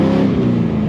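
A BMW E46 swapped with an LSA V8 engine accelerates hard, a loud, steady, dense engine roar filling the whole short moment with no pauses.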